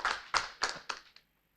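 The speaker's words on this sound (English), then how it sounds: "please give them a round of applause." At an architecture week event, a handful of people clap about five distinct, evenly spaced claps that weaken and trail off into silence, with one last faint clap.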